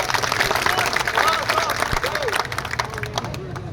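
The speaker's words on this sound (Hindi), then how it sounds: "अरे तालियां तो अच्छी बजनी चाहिए" Scattered applause and clapping from an outdoor election rally crowd in Gwalior, running under a loud amplified speech and crowd murmur.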